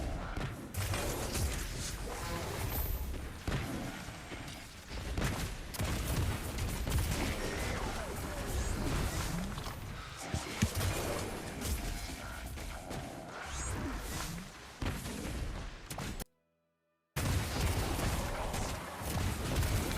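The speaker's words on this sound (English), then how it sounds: "Okay, that's the grenade launcher." A heavy grenade launcher fires in Destiny Rising amid a busy, clattering stream of impacts, whooshes and blasts with a brief silent gap near the end.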